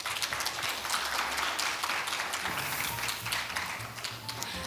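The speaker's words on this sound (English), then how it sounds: "ladies and gentlemen, please give them a final round of big applause." Audience applause closing an international finance conference in Jeonbuk, a steady spread of clapping heard from a moderate distance in a large hall, lasting several seconds.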